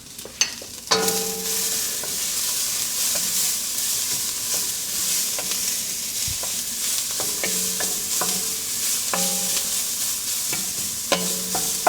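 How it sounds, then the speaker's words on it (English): Cabbage soup being stirred in a pot after salt is added, with a spoon scraping and clinking at irregular intervals over a soft, continuous simmering hiss. "And then stir it for another minute."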